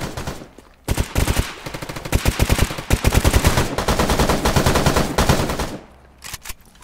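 Sustained automatic gunfire in a bandit attack in the game Stalker Gamma on hard mode, on the way to Cordon: rapid bursts of shots crackle almost continuously for several seconds, with brief pauses near the start and the end.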